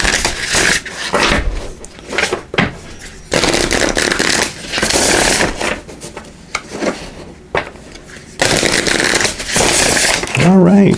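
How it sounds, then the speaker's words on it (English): Oracle cards are shuffled in rapid, crisp riffling bursts, several separate rounds of fluttering card noise with short pauses between them, close to the microphone, with a voice briefly heard at the end. "I'm just going to give these a good shuffle."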